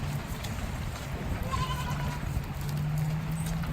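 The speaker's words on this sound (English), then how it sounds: "not only the meat goat, the Boer goats, but we have 4 Nigerian does, and they're dairy goats" Boer meat goats and Nigerian dairy does bleating outdoors in the rain, several wavering calls heard over steady rain noise, moderately loud and nearby.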